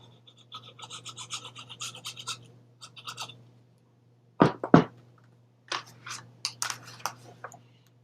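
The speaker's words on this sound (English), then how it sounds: "I'm going to fold and burnish" Paper for a handmade mini album is folded and burnished, giving soft scraping and rubbing strokes in short bursts with two sharp creasing swipes in the middle, all close and fairly quiet under a steady low hum.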